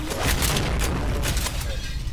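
Explosion in a shooting video game: a loud, dense booming rumble sustained across the whole moment, with crackling bursts on top and possible faint voices underneath.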